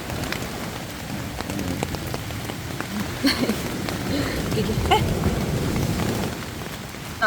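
Heavy rain pours at a beach campsite at Monkey Bay, Port Dickson, a dense steady hiss of drops drumming on surfaces close by, with faint talk and a few brief knocks underneath.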